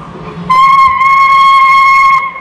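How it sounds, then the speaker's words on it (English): A loud, clear whistle from a Welsh Highland Heritage Railway train sounds close by in one sustained blast of about two seconds, with a brief dip partway, over faint rumble. "You're blowing the whistle."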